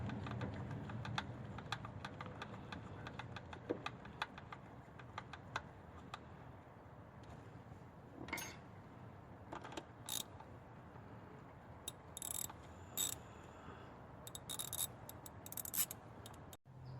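A power steering belt tensioner on a Honda Odyssey is tightened by hand with a ratchet, producing quiet rapid clicking and metallic ticks in irregular bursts over a low background hum, close but faint, with no talking.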